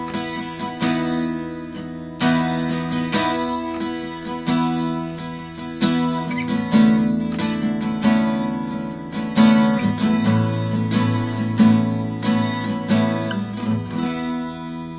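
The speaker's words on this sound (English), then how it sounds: "he then adopts a regular strumming pattern for the first time" An acoustic guitar plays a steady, regular strumming pattern on a song, with sustained bright chords and evenly spaced strokes that continue without a break and without vocals.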